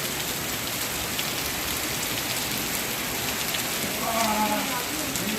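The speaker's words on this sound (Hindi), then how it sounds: "मेरठ में बहुत तेज़ बारिश हो रही है" Heavy rain pours steadily in Meerut, a dense, unbroken hiss of drops drumming on surfaces at close range, with a faint murmur of voices rising briefly near the end.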